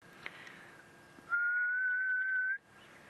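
A person whistles a single sustained low note lasting just over a second, slightly rising in pitch, imitating the haunting call of the ghost bird, with faint background hiss.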